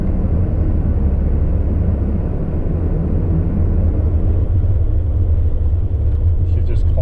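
A Jeep Grand Cherokee ZJ with a 4.0 engine and manual swap climbing off-road in low range first gear on idle, giving a continuous heavy low rumble and engine drone throughout, loud and near, with brief talk late on.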